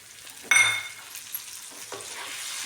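Thinly sliced tomatoes drop into a hot frying pan with a sudden sizzle and clatter, followed by softer stirring scrapes and continued faint frying hiss.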